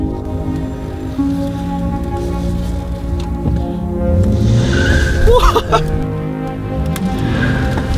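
Car tires skid and squeal on a street in downtown Baltimore while the engine revs, loud and rough against steady road and traffic noise, with a sharper screech midway.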